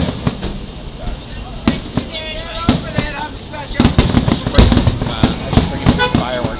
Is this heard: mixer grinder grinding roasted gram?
no